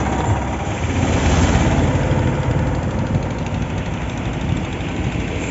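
Heavy lorries pass over a high road bridge beside a flyover, making a continuous close engine rumble with steady broadband road noise and no pauses.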